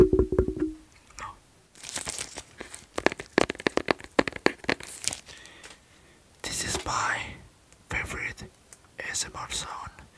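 A cardboard box is handled up close for ASMR, with bursts of crinkly rustling, tapping and crunching scrapes between short pauses, mixed with soft whispering.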